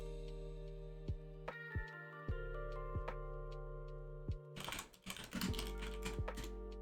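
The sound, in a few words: computer keyboard typing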